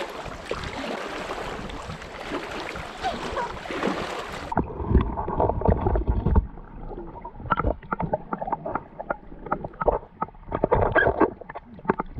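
A canoe paddled on a lake in Algonquin Park, with irregular water splashes and knocks of the paddle against the hull, close by, after an opening stretch of wind noise on the microphone.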